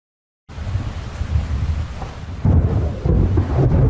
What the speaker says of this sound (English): Continue with the rain?